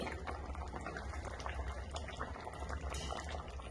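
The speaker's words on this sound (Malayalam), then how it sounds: "മീൻ കറി നന്നായി വറ്റി വന്നിട്ടുണ്ട് എണ്ണയൊക്കെ തെളിഞ്ഞു ഇനി സ്റ്റൗ ഓഫ് ചെയ്യാം" Fish curry simmering and thickening on a stove as the oil separates, a close, steady bubbling with busy popping and gurgling and a low rumble underneath, no speech.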